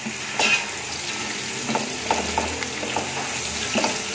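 Onions brown in a pan for chicken pulao with a steady, close sizzle, punctuated by scattered soft clicks and scrapes of stirring, and no voices.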